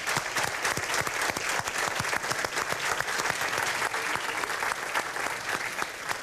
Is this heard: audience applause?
yes